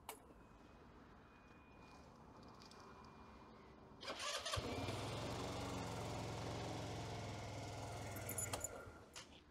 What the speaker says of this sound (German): Jetzt werde ich den Motor starten und wir schauen uns an, was mit der Spannung passiert,